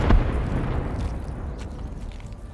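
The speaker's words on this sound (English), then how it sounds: "When I hear all the grenade explosions at gas station, I realize pretty quickly that Rashala is there" Grenade explosions at a gas station in Escape from Tarkov: one sharp, loud blast at the start, followed by a heavy rumbling roar that holds steady to the end.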